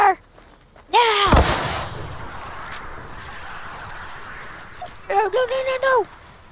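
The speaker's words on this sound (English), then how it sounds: "Cannons, fire! Now!" A loud booming blast of cannon fire in Fortnite, sandwiched between shouted voices before and after.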